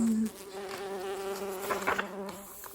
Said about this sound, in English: So why do bees buzz?